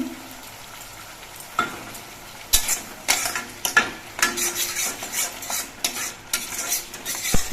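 Spices sautéing in a pan for a Bengali fish dish, a low sizzle broken by loud irregular scrapes and clinks of a spatula stirring against the metal, close and without talk.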